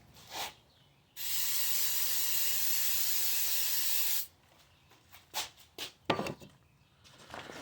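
A can of Goo Gone cleaner gives one loud, sustained hissing spray lasting about three seconds, followed by several short bursts and handling noises close by.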